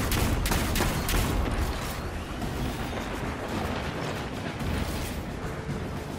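Rapid automatic fire from a Forge weapon in the video game Destiny 2, a dense continuous burst of loud shots with mechanical clatter, strongest in the first couple of seconds and then a sustained rumbling roar.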